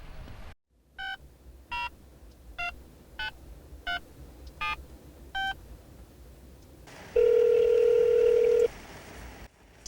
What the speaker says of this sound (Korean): 창문에 적혀있는 휴대전화번호로 연락을 해봤지만 연락 또한 되지 않았습니다.